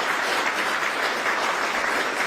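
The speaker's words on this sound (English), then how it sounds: "Let's give her a round of applause." Audience applause at a press event in Rochester, a steady dense patter of clapping that holds at an even level for a couple of seconds with no voices over it.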